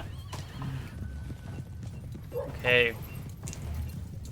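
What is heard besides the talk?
horse hooves walking, tabletop game sound effect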